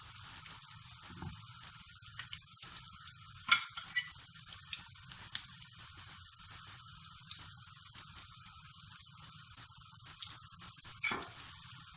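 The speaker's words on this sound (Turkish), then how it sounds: "kızarmaya başladı. İyice kızartalım ki içi çiğ kalmasın." Steady sizzling of kadayif frying in hot oil in a pan, a constant crackling hiss with occasional sharper pops, close and moderately loud, no voices.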